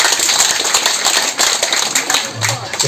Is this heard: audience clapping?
yes